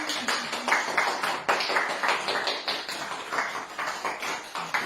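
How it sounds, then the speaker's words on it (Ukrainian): Guests clap at a wedding as the couple begins their first dance. The sharp claps come in a quick, fairly regular rhythm, close and lively, with no clear talking over them. "Оплески ваші."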